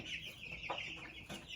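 Young laying hens, including barred rocks, cluck softly at a distance on a homestead, a few faint calls standing out over a constant high-pitched background chorus.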